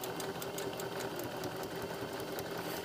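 Sewing machine stitching buttonholes on a blouse, a fast steady mechanical whir with rapid needle ticks, soft and close with no talking.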